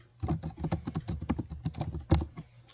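Typing on a computer keyboard, a close run of quick, uneven key clicks with a few louder taps, heard alone with no talking.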